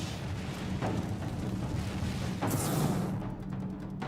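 A snapping shrimp's claw fires a sharp, loud snap that cracks out over a low, rumbling underwater background, followed by a brief burst of crackling.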